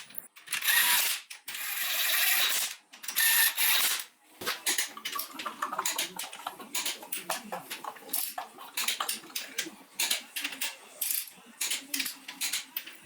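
A ratchet wrench lightly snugs down the crankshaft mounting bolts on an OM 352A diesel engine under repair. Sharp bursts of ratcheting come first, then quicker irregular clicks and metallic taps, close and loud.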